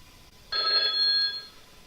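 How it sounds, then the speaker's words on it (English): Alert chime from the Thinkorswim trading platform firing on a chart: a bright electronic ringing tone that starts suddenly, holds for about a second, then fades, clear and alone without speech. "we're going to show you what the alert actually sounds like and looks like when it gets triggered"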